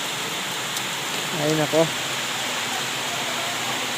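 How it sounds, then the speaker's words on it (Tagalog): Heavy rain pours steadily during a motorcycle ride on a Yamaha Mio or Honda Click, a loud constant hiss that fills the whole stretch, and a brief spoken exclamation rises above it. "Lakas pa ng ulan."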